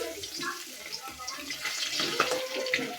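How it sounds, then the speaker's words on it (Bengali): Fish is rinsed under running tap water, a splashing, gurgling stream with uneven bursts, close by with faint kitchen sounds in the background. "মাছটা ধুয়ে নিলাম।"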